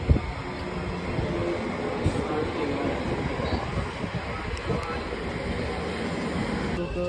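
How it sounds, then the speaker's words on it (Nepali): A train pulling into a station on the way to London, a loud continuous rumble of wheels and carriages running close by throughout, with a brief high squeal near the end. "अब ट्रेन आइसक्यो।"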